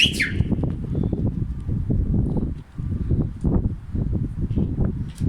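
Tumbler pigeons flying in snowy, stormy weather make repeated bursts of wing flapping close by, with a brief chirp at the start.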